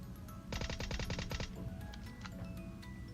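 VSS rifle gunfire in the mobile battle royale game PUBG Mobile, about nine rapid suppressed shots in a tight rhythmic burst lasting about a second, followed by scattered faint clicks and game effects.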